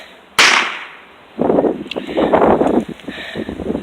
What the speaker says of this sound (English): At least you can still see the fireworks.